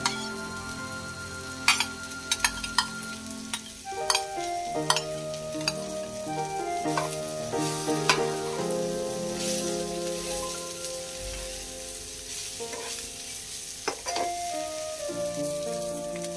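Egg fried rice with two pre-fried eggs sizzles steadily in a pan, with repeated close scraping and clinking of a utensil stirring it throughout.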